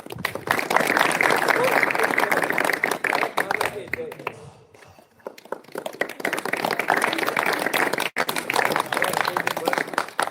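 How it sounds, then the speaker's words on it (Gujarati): An audience at an Independence Day program clapping for the youths, dense applause that dips briefly to a quieter pause midway before swelling again, with voices mixed in. "યુવાનોને આપણે પોતાની જાત માટે એક વખત તાળી વગાડી દેવી."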